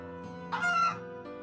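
A chicken in the video game Story of Seasons: Pioneers of Olive Town lets out a single close, loud, drawn-out cluck over a steady backdrop of game music.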